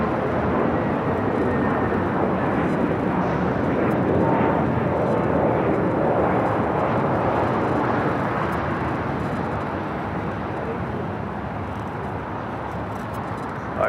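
A heavy cargo jet takes off from runway 25 right at Los Angeles International Airport, a broad, loud engine roar that holds strong for most of the stretch before easing slightly as it climbs away.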